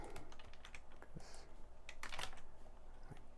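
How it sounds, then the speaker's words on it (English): Quiet, rapid clicking of a computer keyboard comes in irregular bursts of keystrokes, close up, with no voices. "Typing."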